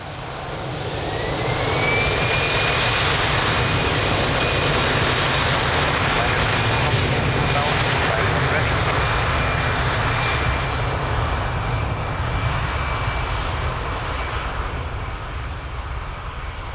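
Airliner taking off from a runway at Lisbon airport, a loud sustained jet engine roar that builds within the first two seconds and holds steady with a faint whine above, while radio voices talk over it.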